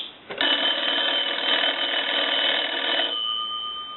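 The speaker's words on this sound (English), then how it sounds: "We can also use the analyzer, like you were getting a call and we'll ring the bells." A Kellogg wood wall telephone's bells ring continuously for about three seconds when triggered from a line analyzer, loud and steady, then trail off into a faint residual tone.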